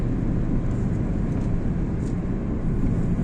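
Small DJI Mavic Air 2 quadcopter climbing outdoors in Cyprus, producing a constant, even rotor whir and airy noise at steady loudness, with a few faint higher chirps over it and no speech.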